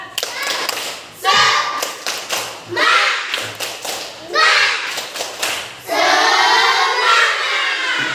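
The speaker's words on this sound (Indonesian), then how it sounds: "kita tepuk semangat yang biasa dulu ya" Children in a classroom perform a rhythmic spirit clap, bursts of patterned group clapping alternating with shouted chanted voices, loud and close, ending in a sustained cheer.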